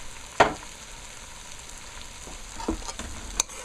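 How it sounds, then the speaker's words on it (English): Parboiled brown rice fries quietly in a pot with oil and salty seasoning, giving a soft, low sizzle marked by a few brief clicks and scrapes. "now I'm gonna let it fry a little, like a little pot"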